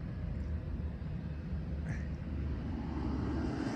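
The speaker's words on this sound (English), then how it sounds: "just wait till he's clear to the runway so he can take off." A twin-engine plane departing Frederick Municipal Airport produces a steady, low engine rumble at moderate distance, holding even throughout with a faint higher whine appearing briefly.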